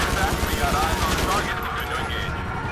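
Gunfire in GTA 5 during a police chase, a busy stream of shots over engine and game noise, with voices talking underneath throughout.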